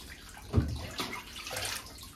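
Running water splashes in a bath while a Basenji dog is rinsed, a soft steady wash of pouring water with a few louder splashes, close by and without speech.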